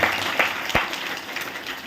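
A church congregation at Calvary Preeti Ministries in Bidar claps in a short burst: a scatter of sharp hand claps with one crisp louder clap, heard fairly close over a soft room background.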